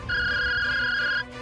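A mobile phone ringtone plays unanswered indoors, a single steady electronic tone that holds for just over a second and then cuts off, loud and close, with no talking.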